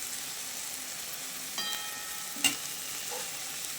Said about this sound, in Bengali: তো টমেটোটা দিয়ে আবারও ভালো করে মিশিয়ে নিয়েছি।